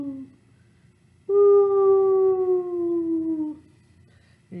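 Young children in a Halloween storytime group moan together in a long, rising-and-falling ghostly "ooh" imitating a ghost, sustained for about two seconds, with a brief voice at the start and end.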